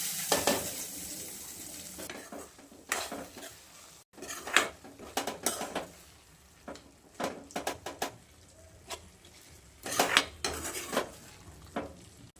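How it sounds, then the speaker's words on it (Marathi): Hot tadka poured over garlicky fenugreek greens in a home kitchen, heard as close clatter of a metal pan and utensils with bursts of sizzle and scraping stirs, irregular and busy throughout. "गॅस बंद करून घेऊयात आपण आहे ना असा तडका देऊयात आपण आता ह्याला"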